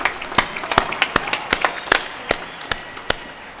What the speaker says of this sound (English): Please join me in a round of applause for them, as well as for the members of the Army, Navy, and Air Force ROTC